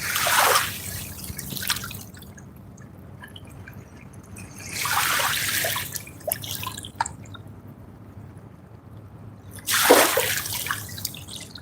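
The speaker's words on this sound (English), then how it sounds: "All these waves are coming out of nowhere." Waves lap against a riverbank at a fishing spot in three separate washes spaced several seconds apart, with quiet trickling between them and no voices.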